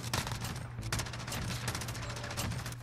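Rapid sustained bursts from an MG34 machine gun in a multiplayer shooter video game, loud and close, with dense rattling volleys broken by a brief pause before firing resumes.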